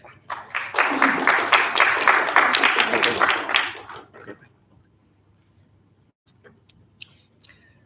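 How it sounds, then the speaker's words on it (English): Audience applause at a business event fills a hall for about four seconds, dense steady clapping that then fades out, followed by near silence with a few faint knocks. "A round of applause,"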